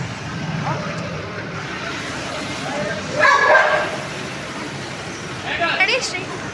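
Dogs at a dog show in Chikkamagalur, with breeds like golden retrievers and pit bulls present, bark in short bursts amid crowd chatter and background noise, a louder yelp rising midway and another near the end.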